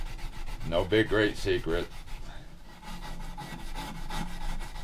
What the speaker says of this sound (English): And then you just sand away.